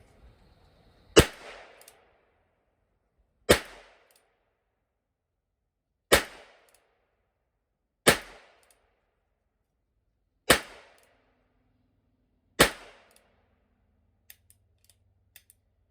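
A revolver firing .22 Long Rifle rounds at a target on a range, six sharp, loud single shots spaced roughly two to three seconds apart with quiet between them.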